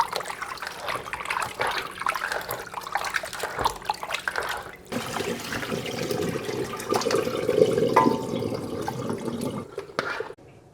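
Running water splashes and trickles steadily as beef tripe and beef feet are rinsed for menudo, the flow growing fuller and heavier in the second half before cutting off at the end.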